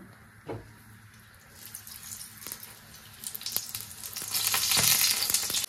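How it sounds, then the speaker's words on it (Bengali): Chicken Mughlai paratha, Kolkata style, frying slowly in oil in a pan over a low flame: a soft sizzle with scattered sharp crackles and clinks swells into a louder, dense hiss toward the end. "এটা সিমে আস্তে আস্তে ভাজা হচ্ছে।"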